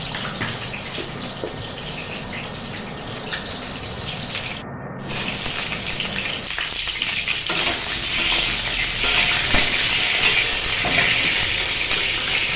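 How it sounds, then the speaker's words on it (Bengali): Potato pieces frying in oil in a pan while a goat curry is prepared, giving a steady, dense sizzle that grows louder and busier partway through, with no talking. "আলুগুলোকে এবার ভেজে নিচ্ছি ভালো করে, লাল লাল করে আলুগুলোকে ভেজে নিচ্ছি"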